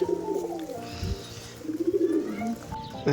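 Pigeons coo softly and repeatedly up close while they feed on a mix of paddy, wheat and millet, with faint shuffling and pecking in between.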